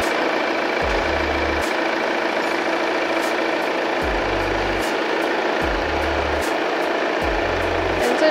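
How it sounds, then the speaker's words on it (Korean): A first-generation Volvo XC60 D3 diesel idles with the engine bay open, a steady, even broadband engine hum running throughout, punctuated by a few short low thumps. "엔진 소리 일정하고 좋습니다"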